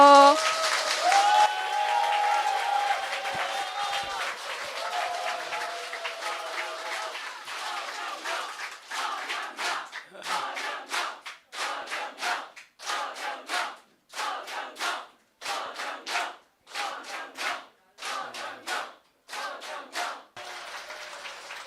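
Audience at a large indoor lecture event applauding on cue: a few seconds of broadband crowd sound under music give way to steady, rhythmic clapping in loud unison bursts, close and filling the hall, with no speech over it.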